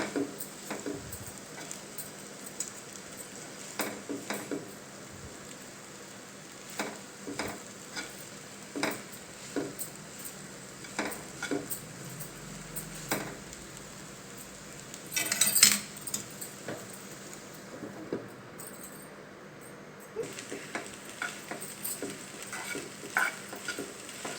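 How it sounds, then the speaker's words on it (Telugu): A spoon stirring Maggi noodles in a pan, repeated scraping and clinking strokes at a steady irregular rhythm over a faint sizzle, close and moderately quiet. "మ్యాగీ నూడిల్స్ అనేది ఇందులో వేసుకున్నాము ఇలా మంచిగా కలుపుకోవాలండి మంచిగా కలిసిన దాకా"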